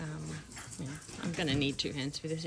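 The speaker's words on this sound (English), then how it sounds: "My dogs are playing around me, so excuse the noise that's going on" Dogs playing close by, whimpering, yipping and letting out small barks in quick bursts, mixed in with a person talking.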